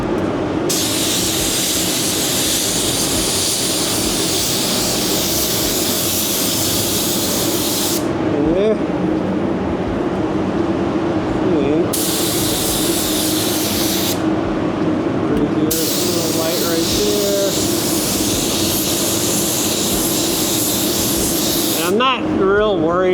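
Aerosol primer sprayed onto steel wheel barrels, Detroit Steel Wheels, in long continuous hissing bursts separated by short pauses, close and loud, with someone talking over it throughout.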